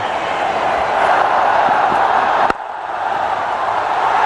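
A large cricket stadium crowd roars in a steady, loud, sustained wave of cheering after successive boundaries, with a brief dip midway before the noise swells back up.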